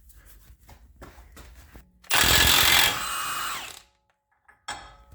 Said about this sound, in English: get both axle nuts off. 32 millimeter. Recommended 1/2 inch impact